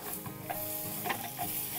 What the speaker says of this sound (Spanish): el jitomate ya se está friendo